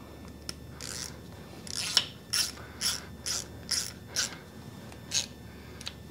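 A ratchet snugs bolts during rear main seal work on a Ford 7.3 Powerstroke engine, giving a close series of about nine quick clicking bursts at a fairly even rhythm over a quiet background.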